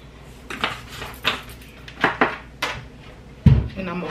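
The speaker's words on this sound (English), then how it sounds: "And I'm going to put the top on that." Metal pots and utensils clank on a home stove while a meal of fish, mashed potatoes and corn is cooked, ending with a lid set down on a pot: a series of sharp, close clinks followed by one heavier clunk.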